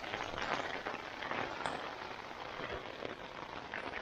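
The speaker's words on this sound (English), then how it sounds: "I didn't think we were going to get rain at all." Steady rain patters on a tent at a backcountry campground during a backpacking trip, a dense, even drumming of drops close overhead with no talk.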